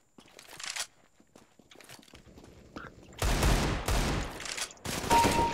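AK rifle gunfire in a team deathmatch video game, with sparse clicks and steps at first, then loud, dense bursts of automatic fire filling the second half.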